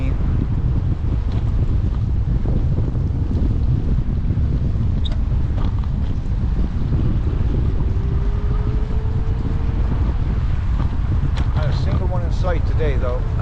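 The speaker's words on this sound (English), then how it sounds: "when the weather starts getting windy like this" Strong wind during an e-bike ride by the water, a constant loud roar of buffeting across the microphone, with a passing tonal hum partway through and faint bird cries near the end.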